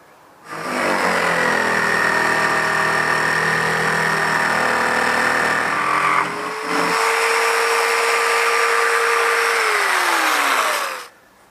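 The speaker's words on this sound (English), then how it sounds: "Probably have to cut this with a jigsaw" Jigsaw cutting wood for a garden bridge, a loud, close, steady high-pitched buzz that starts abruptly, briefly stutters midway, then drops in pitch and stops after about ten seconds.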